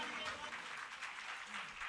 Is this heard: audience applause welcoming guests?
yes